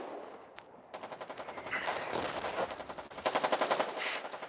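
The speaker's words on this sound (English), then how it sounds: "Artillery continues to fire" Rapid bursts of automatic gunfire and artillery in the war game Foxhole, repeated volleys of sharp cracks at moderate distance, with no talking.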